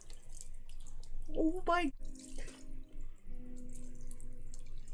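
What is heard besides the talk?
cold running water from a tap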